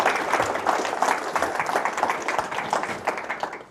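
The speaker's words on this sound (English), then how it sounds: "Give him a warm applause." Audience at a talk applauding the speaker, with uneven, pulsing clapping from a modest crowd that rises and falls and tapers off at the end.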